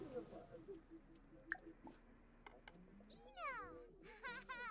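A cat meows repeatedly in The Sims 4 life-simulation game, several short close meows near the end over quiet game sounds and scattered soft clicks.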